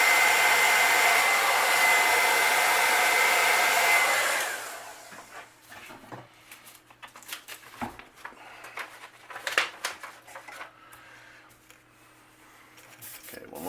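A hair dryer blows loudly for about four seconds, drying a coat of paint, then switches off, leaving soft handling noises and intermittent talking.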